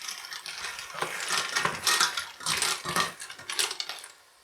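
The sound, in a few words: frozen clams stirred in a pan for spaghetti alle vongole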